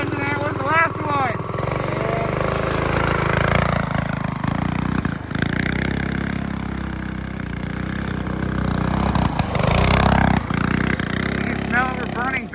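Small engine of a mini bike, go kart or three-wheeler running in snow, a droning mid-pitched motor that rises and falls in revs, close and loud throughout, with brief voices near the start and end.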